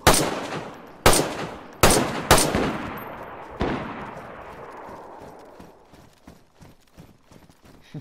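Four loud, sharp gunshots ring out in an irregular burst during the first few seconds as players shoot zombies in the PS4 survival game DayZ, each blast followed by a decaying echo, then fading into quieter scattered clatter and faint ambient noise.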